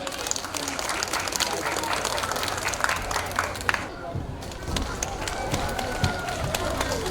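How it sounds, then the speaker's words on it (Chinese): Audience applause and crowd noise for a children's Hakka drum dance club performance at a Taipei school Hakka culture event, steady dense clapping throughout with a brief dip midway, voices murmuring underneath. "掌声鼓励鼓励"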